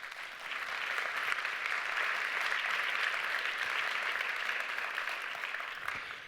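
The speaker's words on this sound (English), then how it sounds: "let's give them a round of applause as well" An audience at an awards ceremony in Berlin claps for the judges, with dense, steady applause that swells and then fades out after about six seconds.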